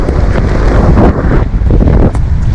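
Loud gusting wind on the Black Sea coast at Lazarevskoye roars against the microphone for a couple of seconds, a dense, unbroken rush with slight surges.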